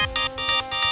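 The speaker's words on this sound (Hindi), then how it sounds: "तोर बाप के फोन आ गए।" A mobile phone rings for an incoming call with a bright, looping electronic ringtone. It pulses rhythmically about every quarter second, close and steady, with no one speaking over it.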